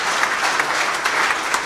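Audience applause at a Hindi kavi sammelan poetry recital, a dense, steady clapping of a seated crowd, loud and close, with no voices over it.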